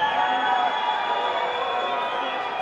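A large concert crowd at a show in Las Vegas on New Year's Eve 2003 cheers and claps, a loud sustained roar of many voices filling an arena, steady over the few seconds.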